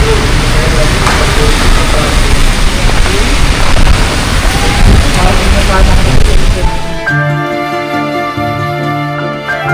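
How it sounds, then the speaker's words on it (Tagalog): Dense, steady roar of heavy rain at Manila Bay, Malate, Manila, with wind gusts; near the end it gives way to music-like tonal sounds. "Kasi ang lakas po ng ulan guys, oh."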